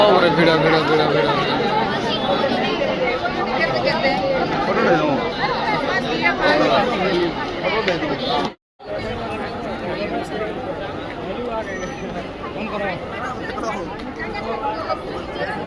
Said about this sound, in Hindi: बरगड़ रो धनुयात्रा भी फेल जवा एते भीड़ जे